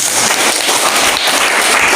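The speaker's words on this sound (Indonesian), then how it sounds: "Ya, terima kasih tepuk tangan." A classroom full of students applauds, a dense burst of clapping that stays loud and even for the whole short stretch.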